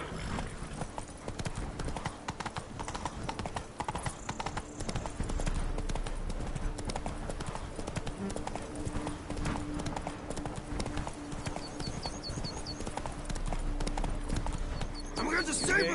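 Hooves of Roach, the horse in The Witcher 3, clip-clop at a steady trot throughout, dense and continuous, mixed with ambient game sound.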